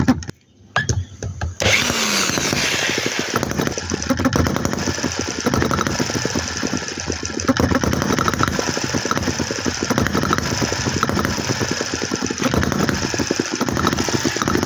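A small hit-and-miss model engine runs with a rapid, uneven chuffing beat after a quiet start, steady and close up, its rhythm mechanical and busy throughout.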